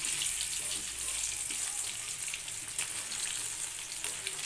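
Potato pieces frying in hot oil in a home kitchen, a constant close crackling sizzle with light stirring, steady and fairly quiet, no talk.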